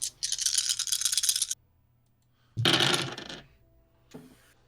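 Five dice rattle and clatter across a table during a tabletop roleplaying game, in two loud bursts of tumbling separated by a pause, then a short final clack as the last die settles.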